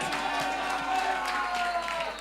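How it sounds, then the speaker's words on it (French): At a French-language talent show, an audience applauds Kenny Bellingham with a dense blur of clapping and cheering that holds steady under a lively crowd. "On applaudit très fort pour monsieur Kenny Bellingham"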